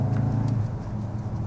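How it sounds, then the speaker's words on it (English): A Volkswagen Tiguan R in race mode gives a steady, boomy exhaust drone with low throbbing pulses, close and continuous, with no talk over it. "Now the exhaust note gets really boomy, but there is an element of piped in exhaust."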